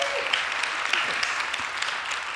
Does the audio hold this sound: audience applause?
yes